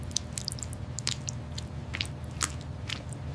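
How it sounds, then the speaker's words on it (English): A raw chili pepper is bitten and chewed in sub-zero cold, with a string of sharp, crisp crunches close to the microphone over a low steady hum. "A raw chili in hand, a defiance of the cold. The crunch echoes, fresh, crisp,"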